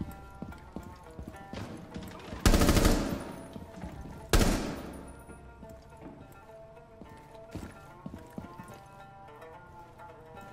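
Frost fires in Rainbow Six Siege, producing two loud, sharp bursts of gunfire a couple of seconds apart. Quieter clicks and footsteps from the game fill the background.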